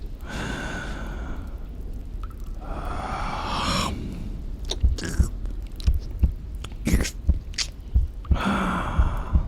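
Meat being chewed up close, with wet biting and mouth sounds coming in short irregular bursts, interspersed with soft breaths and sighs in a quiet intimate setting.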